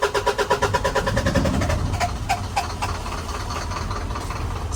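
A 2003-2005 Isuzu NPR diesel engine runs at a steady idle with a rhythmic knocking pulse at first, then a smoother constant drone, fairly close.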